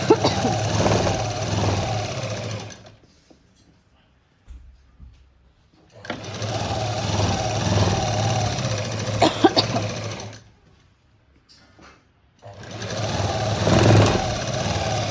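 A sewing machine stitching the waistband of a blouse runs in three bursts of rapid, even whirring and chattering, each separated by a few seconds of near silence.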